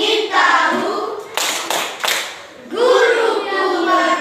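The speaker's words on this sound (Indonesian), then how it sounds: "tepuk konsentrasi" Children in a classroom do a rhythmic concentration clap, a few sharp bursts of group clapping set between stretches of young voices chanting.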